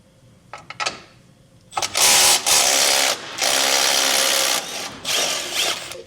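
A power tool backs nuts off the bumper of a 2024 Chevrolet Colorado during a trailer hitch install, buzzing in several loud sustained bursts after a few faint clicks, close by and alone.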